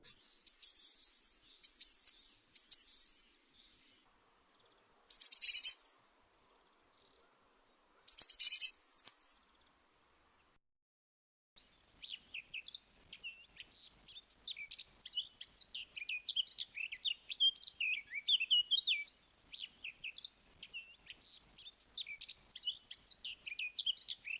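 Eurasian blackcap singing: a few short high chirpy bursts separated by pauses, then a long continuous run of rich, varied warbling song, clear and fairly close.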